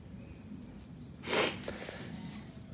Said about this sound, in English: Sorry about the sniffing.